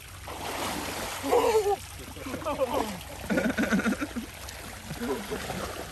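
Rushing water pours steadily down a slope into a backyard pond in the background while people talk loudly over it outdoors.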